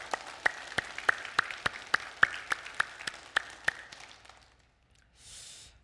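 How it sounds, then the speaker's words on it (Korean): Congregation applause at a Sunday church service, with a single pair of hands clapping sharply and steadily at the front over softer crowd clapping, fading out near the end. "우리 아버지 하나님께 먼저 감사와 존귀와 영광의 박수를 드리겠습니다"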